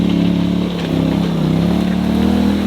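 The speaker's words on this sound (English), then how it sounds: "This is the 850cc ProStar single overhead cam engine." A Polaris Sportsman 850 ATV's 850cc ProStar single-overhead-cam engine running up close, a loud, steady drone dipping briefly then picking back up, with no talking.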